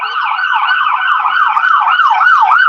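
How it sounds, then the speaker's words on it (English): An ambulance siren wails loud and close, its rising and falling tone sweeping steadily throughout as the vehicle passes nearby on a street. "ambulance"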